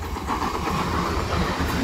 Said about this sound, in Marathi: ट्रेन आले तुम्हाला दाखवतो, बघा ट्रेन आले